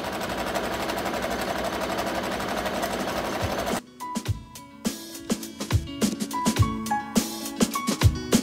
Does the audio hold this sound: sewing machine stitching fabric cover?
yes